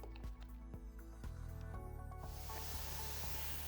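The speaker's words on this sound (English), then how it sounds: "Right now, the gun is just spraying air" A spray tan gun blows air alone. The hiss starts faintly under low machine hum and turns into a loud, steady, broadband rush that holds through the second half.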